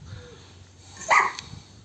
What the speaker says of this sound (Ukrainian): У нас собака зачула ці аромати і просто з вольєра випригує.